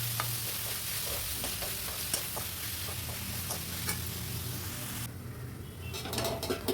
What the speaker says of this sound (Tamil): தக்காளி போட்டு நல்லா வதக்கிடணும்.